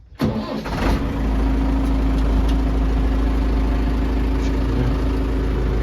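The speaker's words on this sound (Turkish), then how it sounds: "2022 model traktörümüz. Marş yapıyoruz." A 2022 model tractor engine cranks briefly, catches and settles into a steady, loud diesel idle with a deep, constant low hum that carries on alone to the end.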